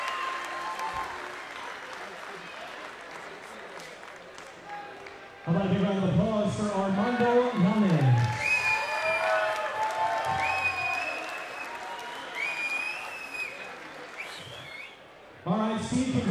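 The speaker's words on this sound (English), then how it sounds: "How about a big round of applause?" Crowd applause and cheering after an MMA bout won by a standing guillotine choke at Domination 2009, filling the hall as an announcer's voice booms over it through much of the clip.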